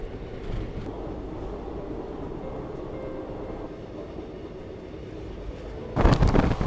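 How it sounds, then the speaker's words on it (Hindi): A Shatabdi Express train passes on the dedicated freight corridor, giving a steady, loud low rumble of rolling wheels for several seconds before a sharper, louder burst of rattling and clatter near the end. "ये शताब्दी एक्सप्रेस का क्रॉसिंग ठीक से नहीं ले पाया मैं"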